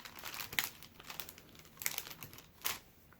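Gift wrapping paper crinkles and crumples in a few quiet bursts while a longer strip of tape is worked onto a partly flat, partly box-shaped item.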